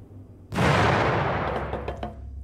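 Gunfire in the video game The Final Station: a loud shot or blast bursts in after a quiet half second, its roar decaying across the rest of the clip with a few sharp crackles and pops near the end.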